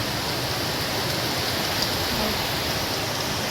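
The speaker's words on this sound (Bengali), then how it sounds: "আর সকালে তো আরও বেশি বৃষ্টি, মানে প্রচণ্ড বৃষ্টি হচ্ছে।" Heavy rain pouring down steadily, a dense, even hiss of drops drumming on surfaces with no pause, fairly loud and close.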